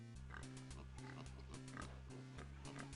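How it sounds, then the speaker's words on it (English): Pigs oink in the Lands of Lore video game, heard as repeated short grunts over a steady, dense game soundtrack. "The pigs look a bit peckish."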